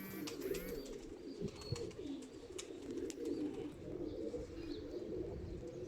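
Pigeons in a loft coo softly in low, rolling calls, with a few faint chirps above them and no talking.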